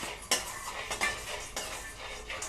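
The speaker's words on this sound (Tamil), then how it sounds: "இப்போ நம்ம இதே சூட்டில் வேர்க்கடலையும் நம்ம லைட்டாக வறுத்துக்கலாம்" Peanuts dry-roasting in a pan, with a few metallic spoon scrapes and rattles over a faint background, close and brief.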